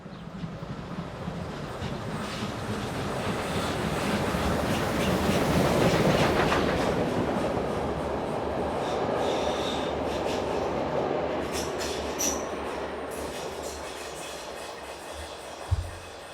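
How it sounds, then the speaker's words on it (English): A German steam locomotive runs south along a railway line at Munchweiler in Rhineland-Palatinate, giving a broad, steady rumble of rolling stock that swells in the middle and fades toward the end, with a brief knock near the close. "The same locomotive heads south through Munchweiler."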